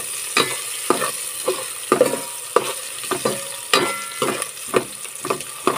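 Chopped onion and ginger sauté in hot oil for chicken tinola, with a steady sizzle and a stirring utensil scraping the pan in regular strokes about twice a second.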